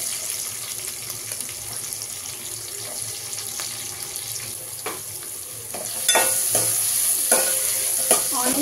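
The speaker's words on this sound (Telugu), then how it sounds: "కొంచెం వేగనిద్దాం." Chopped onions and green chillies stir-fry in a pan with mustard and cumin seeds, a steady close sizzle with scraping stirs that turn louder and more pronounced in the last few seconds.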